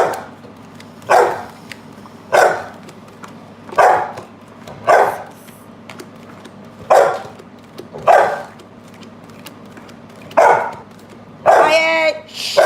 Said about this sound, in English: All right, don't bark at me.